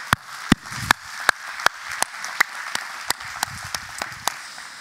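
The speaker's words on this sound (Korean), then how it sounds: "오늘 이 귀한 자리 허락하신 우리 하나님께 먼저 감사와 영광의 박수 한번 올려드릴까요?" Congregation at a Korean Thanksgiving church service clapping in a steady, regular rhythm, a dozen crisp beats evenly spaced over soft room noise.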